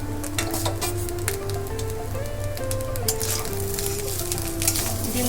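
Egg fried rice sizzles steadily in a hot pan as fried egg is stirred in, a continuous crackling fry with scraping stir strokes and a low hum underneath, no voices.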